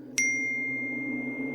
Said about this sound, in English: my phone dinged as I got a text message